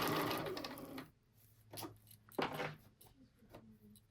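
Sewing machine running close by as it backstitches fabric for a small quilted oven mitt. A steady whirring burst opens, then shorter, fainter stitching runs and clicks follow.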